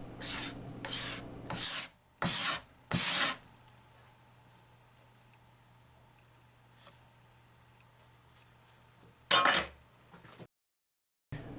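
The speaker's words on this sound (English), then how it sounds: "I cleaned up this area of crotch figure with a card scraper" A card scraper works over crotch-figured walnut, producing several short, close, raspy strokes in a quick cluster, then a long quiet stretch and one final stroke.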